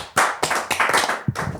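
A small group of people clapping in a few short, uneven bursts, close and fairly loud, with brief gaps between the rounds.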